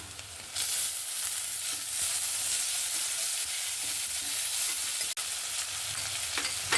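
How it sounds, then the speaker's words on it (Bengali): Chopped tomato hits browned frying onions in a pan, giving a loud, steady sizzle with stirring scrapes throughout and a brief break near the end, no voices. "আমার পেঁয়াজটাও সুন্দর লাল লাল করে ভাজা হয়ে গেছে এবার আমি টমেটো কুচিটা দিয়ে দেব"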